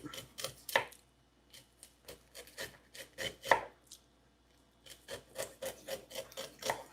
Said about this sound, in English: I'm going to cut the corn off the cob.